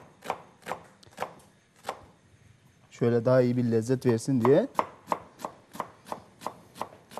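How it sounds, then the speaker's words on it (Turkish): A knife chops an onion rhythmically on a board, steady evenly spaced strokes, pausing while a person speaks, then resuming the same quick chopping pattern. "bir adet de soğanımızı şöyle hemen ufak ufak doğrayalım"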